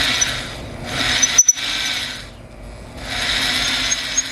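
A drill bit cuts slowly into aluminum, giving a steady grinding whir in two long stretches separated by a brief pause, with a few sharp clicks in between.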